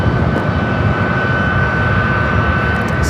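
A Singapore Airlines jet taxiing toward the Tom Bradley gates at LAX gives off a steady, loud, constant engine roar and whine, unbroken and with no talking.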